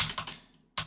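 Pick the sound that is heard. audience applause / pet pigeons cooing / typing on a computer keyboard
typing on a computer keyboard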